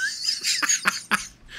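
A few short, harsh coughs from a character in the game Remnant 2, close and moderately loud, spaced irregularly with faint game ambience around them.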